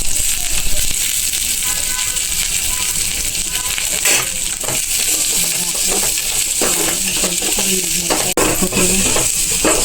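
Chopped onions frying in a pan as the base for paneer masala gravy, a loud steady sizzle with stirring scrapes and clinks from a spoon, and a voice speaking over it.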